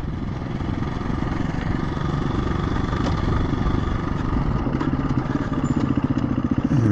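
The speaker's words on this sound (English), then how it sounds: "just let the engine braking do the work." A KTM 350 EXC-F or Husqvarna FE350 trail motorcycle engine-braking on a Devon trail, heard as a loud, close, steady throbbing engine rumble that lasts the whole time with no voices.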